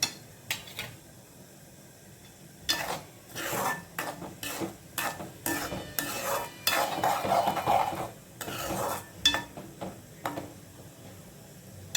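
Spoon scraping and stirring tomato paste in a pan, with soft sizzling and irregular clinks and scrapes at close range, no talking.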